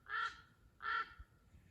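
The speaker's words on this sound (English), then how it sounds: "We've got a crow joining us here today." A crow caws twice outdoors, two harsh, evenly spaced calls at moderate distance over quiet background noise.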